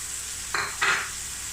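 Finely chopped medium onion hits a hot oiled pan with cumin and coriander, giving two quick sizzling bursts over a quiet kitchen background.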